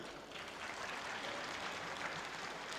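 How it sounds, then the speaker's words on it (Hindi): Thin, faint applause from a sparse audience at a Ram Katha devotional discourse in Bhilai, a steady soft patter of clapping held at low level throughout. "बड़ी कमजोर तालियां।"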